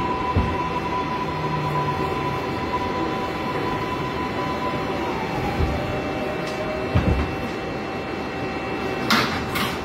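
A New York subway Bronx-bound 6 local train on the IRT line rides between stations with a loud, continuous rumble and a steady whine, broken by a few clunks and rattles near the end.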